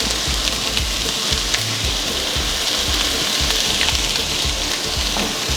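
Jamaican beef patty filling sizzles steadily in a pan, a loud, close, continuous frying hiss with soft stirring scrapes and no talking.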